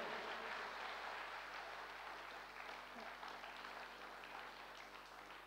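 Faint, thin applause from an audience at a cultural evening after a magician's act, a soft steady patter of clapping that slowly fades, heard at a distance in a large hall.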